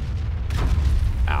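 An artillery round strikes a tank's side in World of Tanks, a deep booming impact over a continuous low engine rumble, followed by a brighter metallic crack near the end; close and fairly loud.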